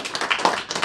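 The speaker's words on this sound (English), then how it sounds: "Give our panel folks a round of applause" Audience at the Starfest 2019 Gamefest game designer panel applauding, a brief burst of dense clapping from many hands, moderately loud and continuous, with a faint voice mixed in.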